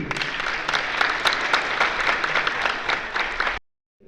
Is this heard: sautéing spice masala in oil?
no